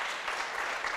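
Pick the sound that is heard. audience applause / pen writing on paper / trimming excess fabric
audience applause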